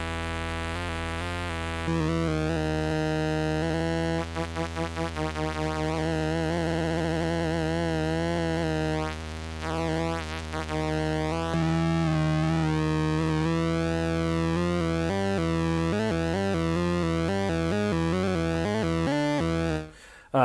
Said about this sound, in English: All right, so now we're on square wave.